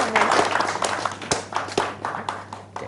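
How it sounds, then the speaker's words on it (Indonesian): A studio audience claps for PSHT members about to perform. The applause comes as uneven, moderately loud claps, with a brief voice mixed in. "kita juga bisa berikan aplaus untuk anggota yang akan tampil"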